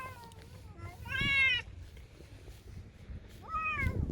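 Several cats meow in a squabble over territory at an outdoor fishing spot, two loud drawn-out wails coming close and clear, with quieter mews between them over low background rumble.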